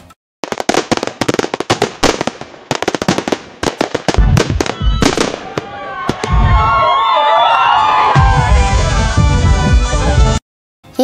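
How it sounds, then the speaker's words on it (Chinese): AI-generated firecrackers burst in rapid, loud, irregular strings of sharp pops, followed by a continuous roar of crowd cheering mixed with more crackling, ending abruptly. "影片里面第一段有鞭炮声和人们的欢呼声"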